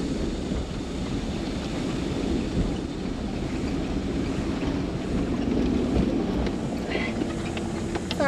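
A vehicle splashes through a creek crossing with a steady rushing, churning roar and wind buffeting the microphone throughout.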